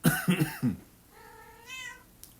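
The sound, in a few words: cat meowing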